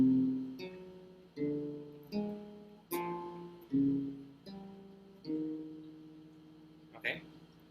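Bass guitar fingering exercise played as a series of separate plucked phrases, each a short run of low notes that rings and decays, with a brief gap between phrases and a sharper attack near the end.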